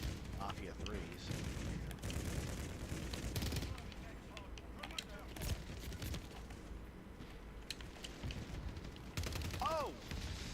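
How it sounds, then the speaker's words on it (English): Gunfire and explosive blasts from a grenade launcher in the game Mafia III. Bursts of repeated shots and booms run under constant talking throughout. "It's a fucking grenade launcher, dude?"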